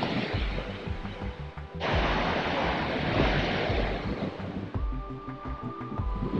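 Ocean surf at Zuma Beach, a steady broad wash of breaking waves with wind buffeting the microphone, a louder surge partway through.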